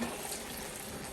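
A steady rush of water pouring from a tap while cooking sinigang with pork hock, close and fairly soft, running continuously without pause.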